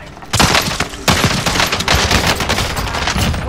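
Call of Duty Warzone gunfire during a Halloween event, loud rapid automatic bursts and overlapping shots crackling close by, continuous over a few seconds with no talk.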